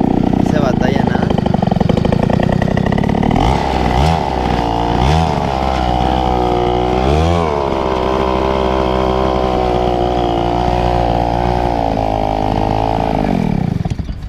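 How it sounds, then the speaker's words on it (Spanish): An old small-engine motorcycle, kept for over fifteen years, runs loud and close, idling steadily with a few quick throttle blips that rise and fall before settling back to a buzzing idle. "la moto aún funciona, realmente pues camina bastante bien"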